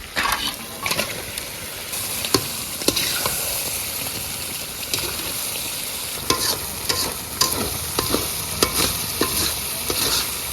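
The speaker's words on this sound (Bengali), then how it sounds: "মশলাটা সুন্দর আর্ধেকটা কষানো হয়ে গেছে এখন ম্যারিনেশন করা চিকেন লেগ পিসগুলো দিয়ে দেবো" Marinated chicken leg pieces fry in a half-cooked spice masala with tomato paste, sizzling loudly and close up while a spatula scrapes and stirs in repeated strokes, with no talking.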